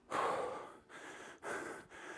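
Heavy, effortful breathing during a hard bodyweight workout: a sharp gasping inhale followed by two more forceful breaths, close to the mic with brief pauses between them.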